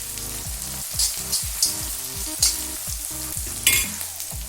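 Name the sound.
onion frying in a pot on a gas stove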